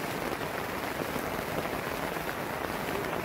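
Heavy rain pours down at a campsite in the late afternoon, a loud, unbroken roar of drops drumming on surfaces with no pauses.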